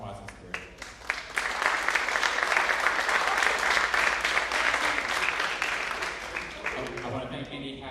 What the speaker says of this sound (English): So give them a round of applause in spirit.